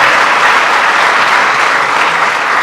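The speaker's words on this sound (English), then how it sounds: "How about another round of applause for Spencer Flood for doing a great job" Loud, dense applause from a large audience at a National Ag Day celebration at the USDA, continuous clapping throughout.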